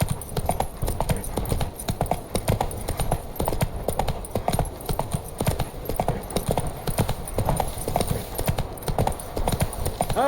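Roach the horse gallops in The Witcher 3, with a rapid, steady run of loud hoofbeats over ground and occasional game sounds in the background.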